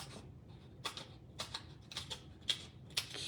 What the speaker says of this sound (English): so let's just go ahead and cut these up.